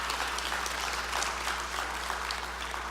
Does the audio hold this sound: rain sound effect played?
no